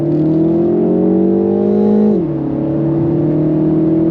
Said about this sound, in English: It blips the throttle and does the downshift, but if you're ready, I'm ready. On throttle, here we go.